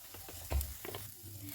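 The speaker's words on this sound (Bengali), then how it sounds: "এবার পেঁয়াজ কুচি আর ক্যাপসিকাম কুচিগুলো দিয়ে দিলাম। এবার আমি এগুলোকে ভালো করে একটু ভেজে নেব।" Chopped onion and capsicum fry in a pan with a steady, close sizzle and a soft knock of stirring partway through.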